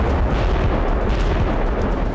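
A FAB-3000 bomb strike in Vovchansk produces a massive, sustained roaring blast, a loud, dense low rumble that fills the whole moment without break.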